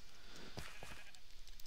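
Sheep bleat in the video game Minecraft (FTB modpack), a short faint bleat with a few clicks around it, heard over a hum in a quiet game scene.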